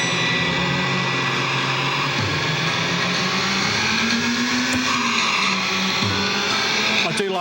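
An Outrun arcade racing machine's car engine drones loudly and continuously, its pitch rising and falling as the car accelerates and shifts, with dense game noise layered over it.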